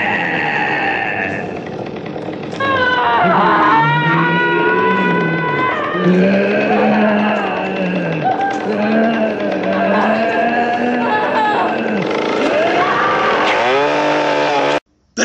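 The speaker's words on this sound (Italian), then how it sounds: "Ci troviamo di fronte ad un'autentica ed epica sfida Motosega versus Asha" A chainsaw runs in a horror film duel scene, its engine whining and revving up and down in loud wavering pitch sweeps throughout before cutting off abruptly.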